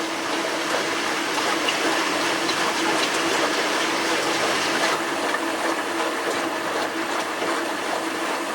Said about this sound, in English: There's a lot of water going through that.